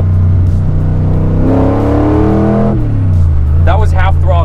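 A 1964 Superformance Daytona Coupe accelerates at half throttle, its engine note climbing loud and close through rising harmonics before easing off, with voices breaking in near the end.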